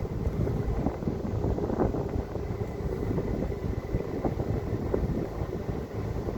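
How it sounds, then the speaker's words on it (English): Wind buffets the microphone during a boat ride on the water, a steady broad rushing roar with low rumbling gusts throughout and no talking. "The wind's picking up a little bit"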